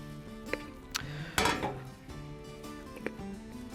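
Thick bread batter dumped from a bowl into a loaf pan, heard as a few light clinks and knocks of utensil on dish around a brief, soft sliding glop, close and quiet.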